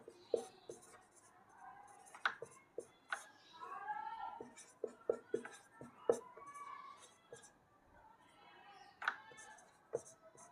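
Chalk or marker writing on a board during a maths lesson, heard as a series of short scratchy strokes and taps, with a voice speaking intermittently between them.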